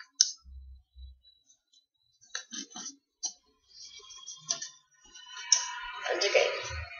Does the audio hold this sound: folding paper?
yes